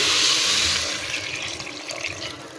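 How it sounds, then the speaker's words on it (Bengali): Water pours into a pot of fried rice for chicken and pea dum biryani, a loud gushing splash that tapers off within a few seconds. "আমি এই যে পরিমাণ মতো পানিটা দিয়ে দেবো"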